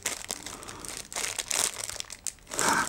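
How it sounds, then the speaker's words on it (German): A plastic bag is torn open while unboxing an HDMI switch, heard as close bursts of crinkling and tearing crackle, loudest near the end, with no one speaking. "jetzt habe ich das falsche Ende der Tüte gerissen"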